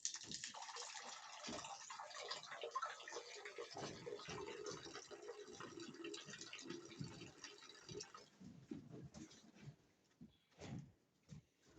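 Running water pours steadily into rabbits' water bowls for several seconds, then tapers into sporadic splashes and clunks as the flow stops.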